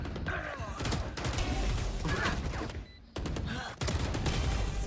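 Gunfire in a Valorant esports match at VCT Masters Shanghai: loud, sharp bursts of rapid shots in quick clusters, separated by brief lulls, close and punchy.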